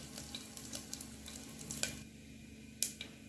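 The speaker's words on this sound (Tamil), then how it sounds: "எண்ணெய் காஞ்சதும் இந்த பட்டை, சோம்பு எல்லாத்தையும் தள்ளி விட்டுக்குவோம்." Soft, steady sizzle of cinnamon and fennel seeds in hot oil in a pan for tomato rice, with a few faint crackles and stirring clicks; quiet and close, with no talking.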